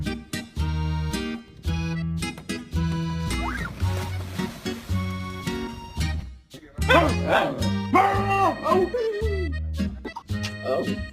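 A pet dog reacts to being kissed on the head with a run of loud close barks, yips and whining whimpers, interspersed with playful human vocalizing nearby.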